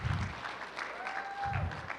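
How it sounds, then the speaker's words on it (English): Clapping from an audience for the judges at the Aggie Voice 2021 singing contest, moderately faint and steady, with a brief sustained tone and low thumps mixed in. "another huge round of applause for our judges. Keep clapping, keep clapping."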